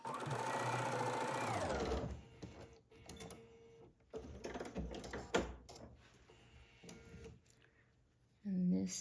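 Sewing machine running a scant quarter-inch seam on a quilt block, a loud steady whir for about two seconds, then quieter handling sounds and a voice talking, with a short burst of motor at the end.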